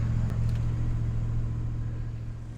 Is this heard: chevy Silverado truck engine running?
yes